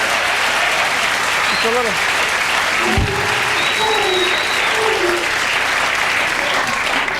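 A studio audience at a late-night talk show claps and cheers loudly and steadily throughout, with someone speaking briefly over the applause.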